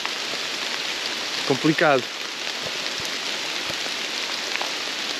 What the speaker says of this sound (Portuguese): E a chuva começou a cair com uma força